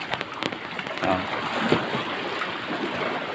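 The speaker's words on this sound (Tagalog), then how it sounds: "Tapos ito, yung parang butas siya na ayun doon pumapasok yung tubig." Seawater rushes in through a hole in the rocks at a resort shore in Diguisit, Baler, a steady close wash with gurgling surges and splashes and no voices.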